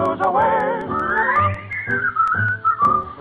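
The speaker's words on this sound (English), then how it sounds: "Whistle all the day, you will find the sun is shining while you whistle your blues away." A person whistles a bright, lilting tune alone, with clear melodic phrases rising and falling and short breaths between notes.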